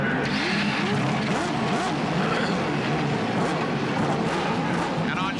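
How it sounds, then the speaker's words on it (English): Loud, dense roar of IndyCar race car engines firing up together for the CART Grand Prix of Long Beach street race in 1991, a steady wall of engine noise with revving and crowd commotion. "Gentlemen, start your engines"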